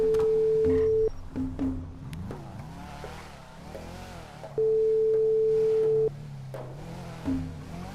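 Phone ringback tone while calling Stuart in a game, two long steady ring tones several seconds apart, with quieter game background and soft chirps in between.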